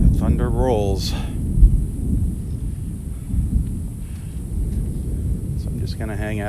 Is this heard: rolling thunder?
yes